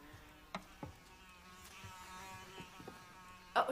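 Flies buzzing in hot weather indoors, a faint, steady whining drone across the whole stretch with a few soft knocks and a louder bump at the end.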